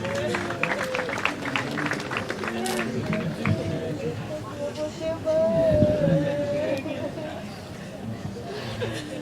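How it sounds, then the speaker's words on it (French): Mourners at a funeral applaud amid loud crowd chatter, the clapping dense and ongoing beneath overlapping voices. "Nous acclamons très fort."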